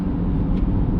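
Ford Ranger Wildtrak 4x4 TDCi diesel engine droning steadily through a brief moment of gear changing, a close, even cabin hum without a clear shift break.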